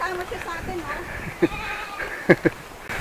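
Several short bleats from small goats, close by and fairly loud, cutting in over steady conversation on a river trek.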